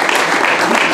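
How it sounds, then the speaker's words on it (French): Audience applause at a radio station inauguration, a steady dense wash of clapping filling the whole second without pause. "Serge, on peut l'applaudir également"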